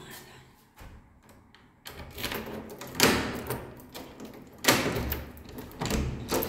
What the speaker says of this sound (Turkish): Kapımızı açalım. Kapımızı açalım.